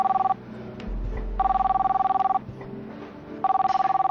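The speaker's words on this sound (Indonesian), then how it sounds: "Boleh saya angkat telepon ya?" Landline telephone bell ringing in a dramatic indoor scene, three loud double-tone rings separated by pauses, close and clear with no talk.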